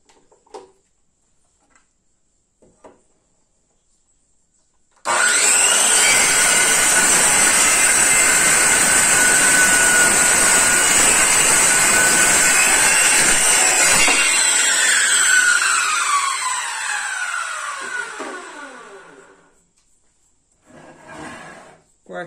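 A handheld circular saw rips through a board along a cutting jig, a loud whining roar with a sharp onset that runs for about ten seconds and then spins down and fades, with faint knocks before and after.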